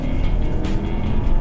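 A 2015 Audi A3 engine pulls hard during a hot lap on a track, a loud, close, continuous roar with slight wavering as it holds its power band.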